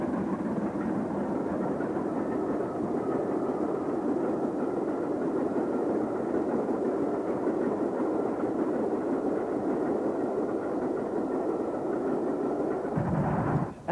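Steam locomotive 35011 hauls a Pullman Express past Clapham Junction in 1950s or 1960s Britain, a steady loud rumbling roar of the engine and rolling carriages that lasts throughout and cuts off abruptly at the end.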